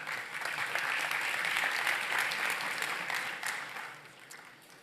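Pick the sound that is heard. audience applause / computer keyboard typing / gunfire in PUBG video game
audience applause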